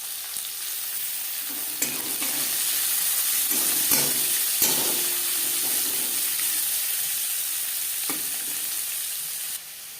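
Chopped onions hit hot oil after panch phoron spices for a potato fish curry, giving a loud, steady sizzle with brief stirring scrapes and clinks, close and without talk.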